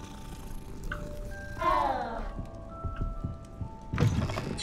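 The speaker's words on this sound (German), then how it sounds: "Die Katze ist vom Teufel besessen." A cat in the video game Hogwarts Legacy lets out a single drawn-out meow, set among scattered soft thumps and light game ambience.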